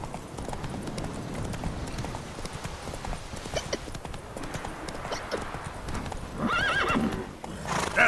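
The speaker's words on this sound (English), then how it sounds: "That's it, Roach." Roach, a horse in The Witcher 3 video game, gallops with steady, rapid hoofbeats under game ambience, and a whinny sounds near the end.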